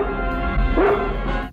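A dog barks and yips once over a steady low hum, with a short rising whine in the middle. The dog is the Junkyard Dog animal companion from G.I. Joe toys.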